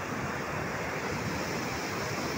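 Water pours over the spillway of Adhala dam near Devthan, full and overflowing after heavy river flow, a steady, dense, loud roar of rushing water with no pauses and no voices.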